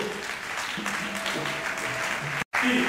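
A church congregation applauds in a steady wash of clapping at moderate volume, with a brief cut near the end followed by more clapping. No speech is heard.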